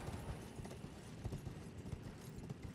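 Hooves clop in a quick, steady rhythm, a galloping horse in the video game Elden Ring heard faintly and continuously.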